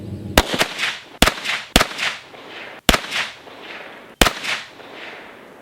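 Five sharp 9mm handgun shots from a Stand 1 Armory pistol firing 147 grain rounds, spaced unevenly about a second apart, each a loud crack with a short ringing echo, near and with no talk.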